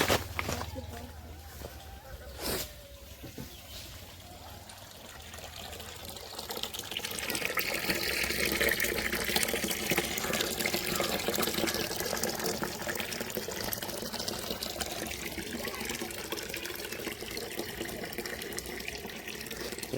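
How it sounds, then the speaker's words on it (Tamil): Water runs and splashes steadily through a home-made fish tank water purifier, starting quieter and growing into a loud, continuous trickling gush close by, with talking heard over it. "தண்ணி ஓடிட்டு இருக்கு, அதை காட்டுறேன்."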